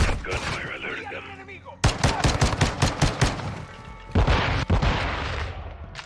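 Gunfire in Call of Duty: Modern Warfare 2 (2022): loud, close bursts of rapid automatic shots and single cracks, with a booming blast and reverberating tails.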